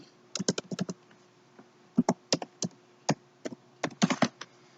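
Fingers type a username on a computer keyboard, producing clusters of quick, crisp key clicks separated by short pauses, close and clear with no voices.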